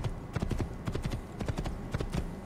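Horse hooves clip-clopping in the Assassin's Creed video game, a close, steady rhythm of sharp hoofbeats repeating evenly throughout, heard alone without talk.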